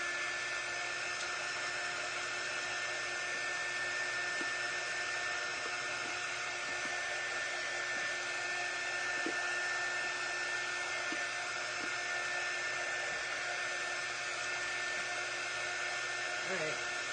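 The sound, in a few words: hair dryer drying a craft project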